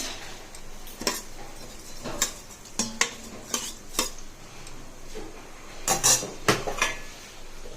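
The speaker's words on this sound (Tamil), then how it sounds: "இப்போ மூடிட்டு நம்ம 10 நிமிஷம் வேகட்டும்." A pressure cooker lid being closed in a home kitchen while making sweet pongal brings a run of sharp metallic clanks and clatters, loud and close, spaced irregularly with clustered knocks near the end.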